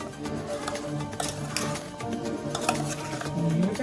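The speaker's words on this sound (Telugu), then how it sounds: "మంచిగా కలుపుకోవాలి." Cauliflower pickle being stirred by hand after a hot tempering is poured in, with steady scraping and clinking of a spoon against a bowl, moderately loud and continuous, no voices.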